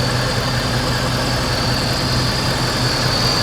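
A 2015 Ford Mustang GT fastback with a 5.0-liter V8 idles steadily, a loud, close, even low rumble with a constant hum and no changes in revs, and no one speaks over it.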